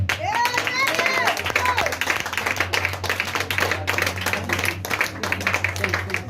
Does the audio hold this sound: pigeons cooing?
no